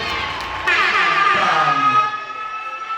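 Audience at a school year-end closing ceremony cheering and applauding, a loud, dense swell of crowd noise that rises sharply and then holds steady, with voices mixed into the din.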